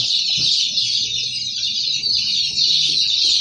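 Roosters and hens kept together in a mixed pen cluck and mutter continuously, with a steady high hiss of the surroundings over the low bird calls.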